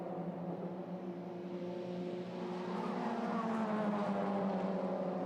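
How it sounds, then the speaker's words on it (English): A TCR Europe touring race car sweeps past a trackside camera at Hockenheim, a sustained near engine drone rising slightly in level, with a rough fluttering edge from loose bodywork; no voices. "you can hear the bodywork flapping as it went past our camera"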